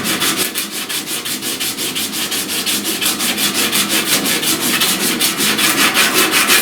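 Paint being sanded off a truck cab corner by hand, heard as brisk, evenly spaced scraping strokes, loud and close, continuing without a break.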